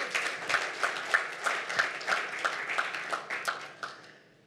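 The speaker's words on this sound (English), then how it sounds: "I would like you to recognize with a little applause" Meeting audience at an arrears-clearance side event gives a short round of light, modest applause, individual claps distinct and evenly paced, fading out toward the end.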